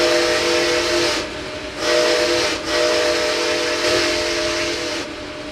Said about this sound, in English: We'll kind of blow the whistle here so you can hear it